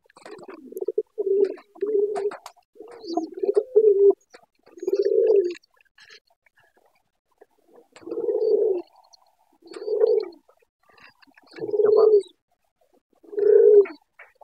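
Spotted dove cooing in repeated low, hollow phrases, about eight calls spaced a second or two apart, fairly close and clear against a quiet background with a few faint higher bird chirps.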